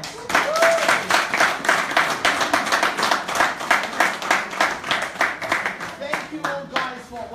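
Enthusiastic clapping from an audience at a book event, rapid, uneven hand claps packed together and loud, with voices calling out briefly beneath and near the end.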